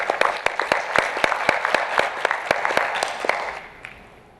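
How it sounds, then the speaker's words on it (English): An audience at the World Petroleum Council Youth Forum panel applauds for the next speaker, a petroleum development company CEO, with some loud, sharp individual claps standing out over the steady applause before it fades out at the end. "let's give him an applause,"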